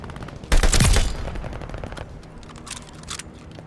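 Gunfire from Call of Duty: Vanguard, a World War II shooter in Hardpoint mode: a loud close burst of rapid automatic fire, followed by fainter, scattered shots and distant bursts.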